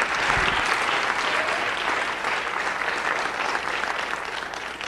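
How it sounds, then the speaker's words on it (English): A church congregation claps and cheers during a sermon at a Houston conference, a dense, steady wash of applause with scattered shouts running loud and close throughout. "clap those hands and shout unto the Most High God"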